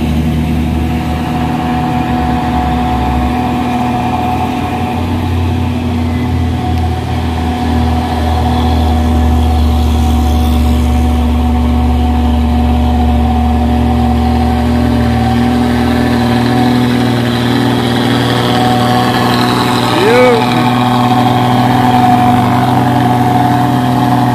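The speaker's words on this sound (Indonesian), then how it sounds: "Oke, menyusul lagi box Hino." A Hino box truck's diesel engine drones steadily on a hill climb, loud and continuous with low rumble and a slight rise in revs near the end, no talk.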